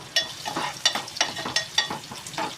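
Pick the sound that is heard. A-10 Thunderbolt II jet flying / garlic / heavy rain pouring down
garlic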